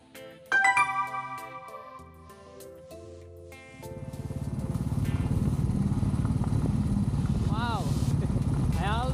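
A motorcycle starts riding off-road toward hills. Its engine rises into a steady, loud, close drone after a stretch of music, and a voice is heard faintly over it.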